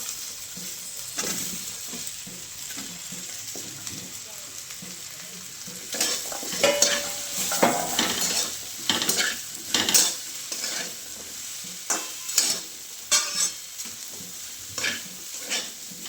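Okra and green chilies fry in a pan, a bright steady sizzle broken by rhythmic spatula scrapes and stirring strokes that grow busier toward the end, heard up close with no talking.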